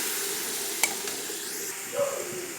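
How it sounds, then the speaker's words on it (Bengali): Onion masala for a tangra fish bhuna sizzles softly in a pan as water is added, a steady gentle hiss with a few clinks and stirring scrapes. "পেঁয়াজটা কষানোর জন্য আমি জল দিয়ে দিচ্ছি"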